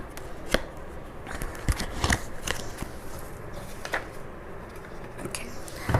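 Tarot cards shuffled near and steady for several seconds, with crisp riffling bursts and sharp slaps of the deck in an irregular rhythm, alone with no voice over them.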